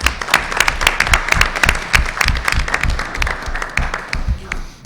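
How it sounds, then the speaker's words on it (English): A board of education meeting audience applauds the Hillsborough High School math team with loud, sustained clapping from many hands, dense and continuous throughout. "Let's give them a big round of applause."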